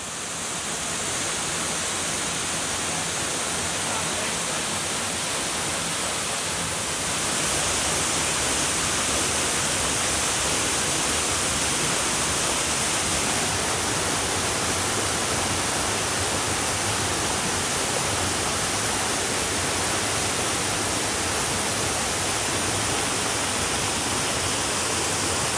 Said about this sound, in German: Der Park ist überschaubar, der Wasserfall dafür echt spektakulär, zumal man im See darunter schwimmen kann.